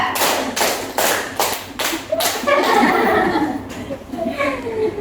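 A group claps in a counted rhythm, tepuk one, two, three, with several loud unison claps in quick succession, followed by chuckling and laughter among the participants.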